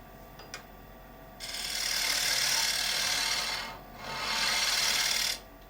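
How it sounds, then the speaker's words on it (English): A shear scraper rasps across the bottom of a small, shallow turned wooden plate in two sustained, close, even scraping passes, with a few faint clicks before the first and a short pause between them. "shear scraper. So you can scrape"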